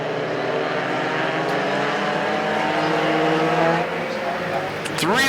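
Mini stock race cars roar around the Perris Auto Speedway figure-8 track in a main event, engines droning steadily and continuously, with a rising pass-by whine near the end and a race announcer's commentary running over the noise.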